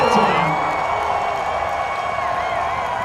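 Large crowd cheering and whooping for Jorge Martin at the Thai MotoGP race, a broad, steady roar of voices with a commentator talking over it.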